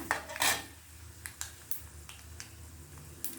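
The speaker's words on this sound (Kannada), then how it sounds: "ಈರುಳ್ಳಿ ಹಾಕ್ತಾ ಇದ್ದೀನಿ ಅದ್ರಾಗ ಹಸಿಮೆಣಸಿನ್ಕಾಯಿ ಕೂಡ ಹಾಕ್ತಾ ಇದ್ದೀನಿ" Onions and green chillies go into a frying pan with chana dal for a masala dosa potato filling. A couple of sharp metallic clatters of a spoon against the pan are followed by lighter taps over a faint sizzle.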